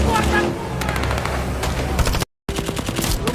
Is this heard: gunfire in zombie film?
yes